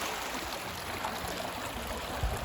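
Water flowing in a backwoods Kentucky stream, a steady close trickle and gurgle that holds evenly throughout, with no voices.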